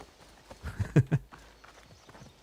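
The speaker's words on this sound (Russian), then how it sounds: "Конь." Horse hooves in Assassin's Creed Odyssey: a few soft clip-clop hoofbeats close by over roughly half a second, faint and brief against a quiet game background.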